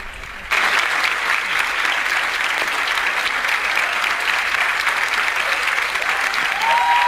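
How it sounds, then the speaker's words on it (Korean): Loud, sustained applause from a choir, priests and musicians at a Medjugorje youth festival, a dense steady clapping roar starting abruptly and holding evenly throughout. "크게 우리 사제들과 우리 음악하시는 분들이 박수를 쳐드리겠습니다."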